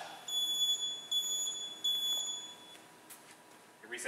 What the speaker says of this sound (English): the alarm will sound, and the light will flash